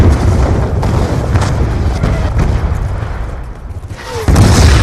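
Mortar explosions in the Black Ops II campaign, heavy low booms and rumbling blasts running continuously, with a fresh loud burst near the end.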